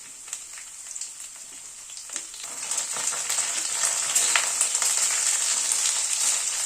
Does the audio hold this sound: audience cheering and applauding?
no